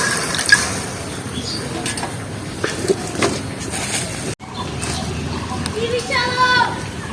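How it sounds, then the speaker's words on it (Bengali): Water poured into a hot pan while cooking a drumstick-leaf mash, giving a steady splashing pour with hissing and bubbling, under someone speaking. "দিয়ে দেবো জল"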